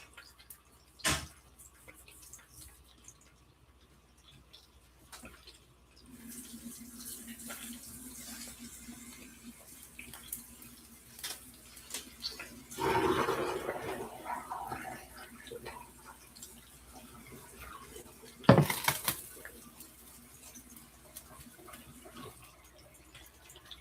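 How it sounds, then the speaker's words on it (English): A skillet is washed under a running kitchen tap in a sink: a faint, uneven stream of water with brief louder splashing surges and occasional clunks of metal. "Here I'm cleaning up the skillet."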